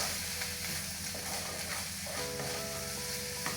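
Beaten egg stirred into a beef filling for stuffed courgettes in a hot pan: a steady close sizzle and hiss with soft scraping stirs, plus a faint tonal hum in the latter half.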